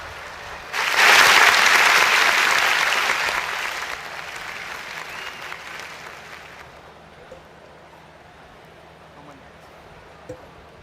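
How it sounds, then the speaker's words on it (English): An audience at a department degree distribution ceremony bursts into loud applause for graduates, a dense burst of clapping that swells quickly, holds for several seconds, then fades away into quiet room tone. "Let's give a big round of applause to all of our MS graduates."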